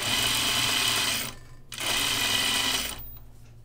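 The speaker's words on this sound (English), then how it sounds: "My lamp is rattling. The lamp that comes with the machine." A sewing machine runs steadily with its built-in lamp rattling along, stopping briefly before starting again and then trailing off.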